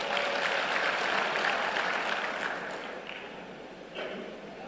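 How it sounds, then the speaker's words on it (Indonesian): Audience applause for an honoured guest, a newly sworn-in quarantine chief, at an Unhas alumni association congress, a dense steady clatter of many hands that eases toward the end with a brief swell near the close. "tepuk tangan untuk beliau"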